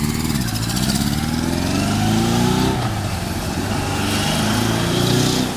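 A vintage motorcycle engine revs hard and steadily, its pitch climbing and dipping as the bike pulls away, loud and close throughout with no talk over it.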